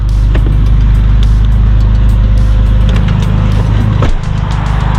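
BMW E39 with a turbocharged M50B30 straight-six and 8HP automatic, loud engine drone held high and steady near the limiter, then a sharp drop in revs near the end.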